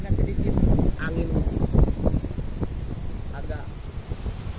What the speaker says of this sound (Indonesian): saat ini mungkin karena cuaca agak sedikit angin